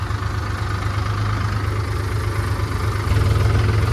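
A tractor engine idling on a farm, a steady close low-pitched rumble with an even chugging pulse that grows slightly louder near the end, with no talk.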